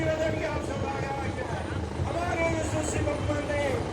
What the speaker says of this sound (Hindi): देख सकते हैं हेलीकॉप्टर आ रहा है यहाँ से, बस यहाँ पे अभी उतरने वाला है।